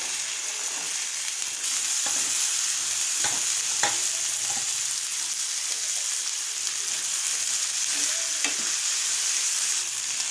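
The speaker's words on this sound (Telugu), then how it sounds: "బఠానీలను పచ్చివాసన పోయేంత వరకు రెండు నిమిషాల వరకు వేయించుకోవాలి" Fresh green peas fry in a pan after turmeric and ginger-garlic paste, a steady close sizzle running throughout with occasional sharp pops and stirring taps.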